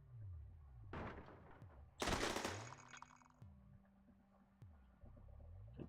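Gunfire in a psycho patrol video game: bursts of rapid machine-gun and single shots, loudest in a dense volley near the middle, over a low droning game soundtrack with no talk.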